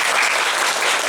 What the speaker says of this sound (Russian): поэтому горячие аплодисменты